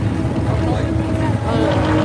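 Loud car engines rumble continuously at a crowded car meet, a dense, steady roar close by with no clear break, mixed with wind noise and the murmur of people talking.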